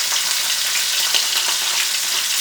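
Beef sears in a hot skillet, giving a loud, dense, continuous hiss of frying that stays steady from start to finish, close up, with no voices.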